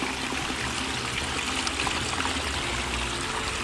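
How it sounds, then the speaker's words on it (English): Water runs off a sheet waterfall into a nature-inspired garden stream, a steady broad splashing rush that stays even and close with no voices. "The way that water runs off, it's really quite difficult sometimes to get that perfect sheet."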